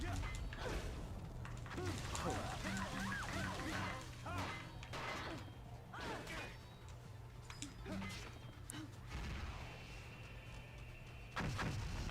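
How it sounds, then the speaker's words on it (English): Missiles slam into a wall in the video game No More Heroes, with repeated crashing impacts and mechanical creaks under ongoing game sound and occasional talk. "I appreciate all these missiles just hitting the wall"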